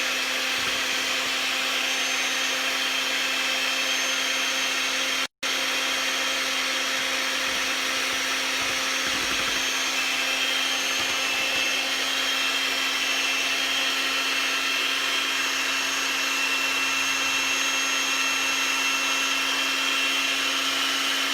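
An electric mixer whips cream into homemade herbal butter in a deep bowl, giving a loud continuous whirring hum that runs steadily throughout, broken only by one momentary cutout.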